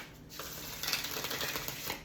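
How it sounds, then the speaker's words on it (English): Tarot cards being shuffled by hand, a quick run of soft riffling and slapping rustles up close, no talk. "I'm going to just round it out with another shuffle here."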